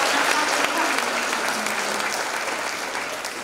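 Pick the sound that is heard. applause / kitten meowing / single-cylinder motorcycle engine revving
applause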